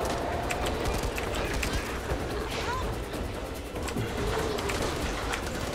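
Birds in the zombie shooter Back 4 Blood give faint, scattered cooing and fluttering calls, buried in a constant dense wash of game ambience that runs steadily throughout.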